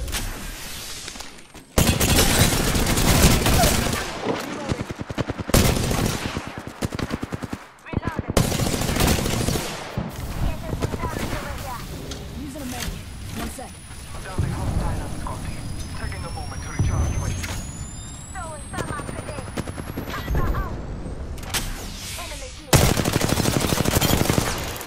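Gunfire in the video game Apex Legends, loud and close, with long runs of rapid automatic shots broken by short pauses and single cracks, mixed with in-game sounds and voices talking throughout.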